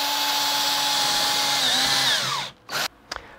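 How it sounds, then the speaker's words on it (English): Power drill boring pilot holes in wood for a homemade teardrop camper's door frame, a loud steady whine running continuously before winding down and stopping, followed by two short bursts of drilling. "drilling the pilot holes"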